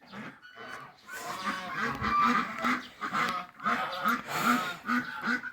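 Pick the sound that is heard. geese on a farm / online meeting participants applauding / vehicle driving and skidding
geese on a farm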